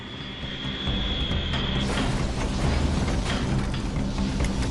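Airliner jet engines drone through a bumpy flight in turbulence, a steady broad roar that swells and thickens partway through, with a thin whine fading out early, no talking.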